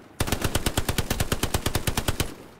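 Rapid machine-gun fire in Hell Let Loose, a single sustained burst of about twenty evenly spaced loud shots lasting a little over two seconds, close and with no voices over it.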